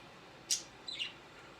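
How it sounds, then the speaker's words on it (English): A pet parakeet chirps while pestering a cockatiel indoors: two brief, high, faint chirps about half a second apart, with no talking. "my parakeet is harassing my cockatiel"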